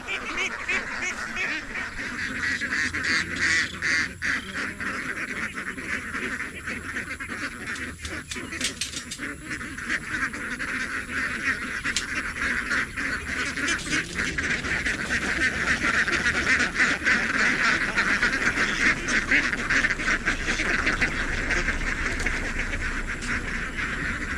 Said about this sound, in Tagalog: Doon po natin ilalagay yung ating mga itik.